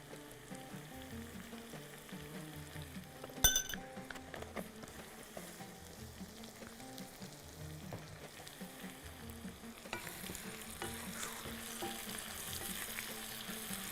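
Onions sauté in a pan, giving a steady low sizzle with scattered crackles, a sharp clatter early on, and a brighter, louder frying hiss toward the end.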